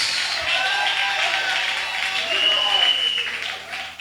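A church congregation claps and cheers together in a sustained burst of applause, dense and lively throughout, with voices shouting over the clapping.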